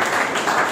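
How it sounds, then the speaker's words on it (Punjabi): Brief burst of clapping from a group of people during an interview with young people about the 2019 Lok Sabha elections, steady dense patter throughout under no audible talk. "ਤਾੜੀਆਂ ਮਾਰੋ"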